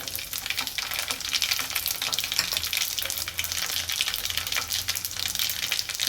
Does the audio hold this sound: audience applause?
no